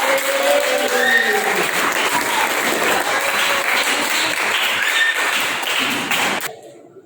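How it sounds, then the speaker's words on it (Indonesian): Class of students applauding a classmate, a dense burst of close clapping from many hands sustained for over six seconds with faint voices underneath, then stopping abruptly. "baik, tepuk tangan buat Sawa."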